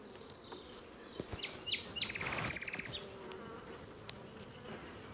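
Honeybees buzz steadily across a brood frame as a queen-cell check goes on, a dense close hum with sharper individual wingbeats rising in the middle and no talk.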